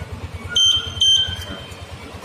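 Two short bursts of an electronic alarm chirp from the keyless smart key system on an older Yamaha NMAX 155 scooter, sharp and close, over a low pulsing engine-like thrum.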